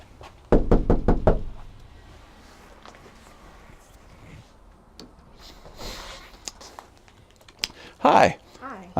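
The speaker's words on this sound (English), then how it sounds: "we like to knock on the door, and that way it's a little softer, gentler opening" Knocks land on a customer's front door in a quick burst of four or five close raps, then quieter rustling and footsteps, and a voice speaks near the end.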